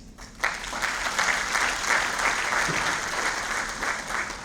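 The assembly at the opening ceremony of a lawyers' congress breaks into applause for the bar president, a dense, even wash of clapping that starts abruptly and holds steady, fairly distant and without speech.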